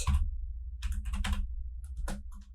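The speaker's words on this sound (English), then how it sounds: "And the search bar, go ahead and type in block website" Someone types a search on a computer keyboard in a few quick bursts of clicky keystrokes, close and clear with short pauses between them.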